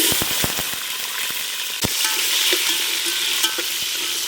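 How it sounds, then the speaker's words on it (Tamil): Peeled small shallots frying in oil with cumin and fennel for rice and dal, a loud continuous sizzle with sharp utensil clicks early on, then scattered taps. "உரிச்சு வச்சா சின்ன வெங்காயம் சேர்த்துக்கிடுவோம்"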